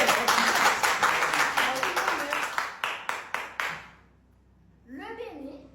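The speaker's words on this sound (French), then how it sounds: "Applaudissez pour ça." Audience clapping at a house of challenge edition 8 event, starting as dense applause and thinning into a few distinct, spaced claps before fading out, then a voice speaks briefly afterward.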